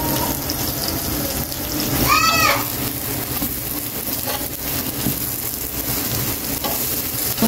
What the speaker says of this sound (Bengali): তারপর ভাবলাম যে আজকে একটু লোহার তাওয়ায় রান্না করি, মানে ভাজবো